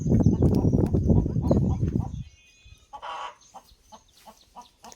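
Chickens cluck close by outdoors, where a cake is being baked in a pot, with short, scattered clucks following a louder stretch of rough background noise at the start.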